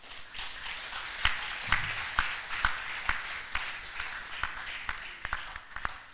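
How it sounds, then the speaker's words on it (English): A graduation induction ceremony crowd for new physiotherapists breaks into applause, a soft bed of scattered hand claps with distinct sharper claps punctuating it at irregular intervals, somewhat distant in a large hall. "You deserve an applause."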